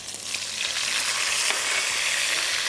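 Onions and tomatoes frying in a hot pan give a loud, continuous, bright sizzle that holds steady throughout, with no talking.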